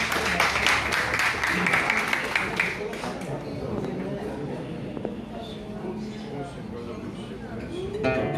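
Applause greets Fernando Aguiar at a live bossa nova show, with clapping strongest over the first three seconds and fading into a crowd murmur and a loud chattering room as people talk throughout.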